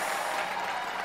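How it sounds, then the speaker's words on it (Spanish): Crowd applause from the tennis video game Everybody's Tennis on PS2, a brief steady wash of clapping at moderate level with no distinct voices. "Aplausos."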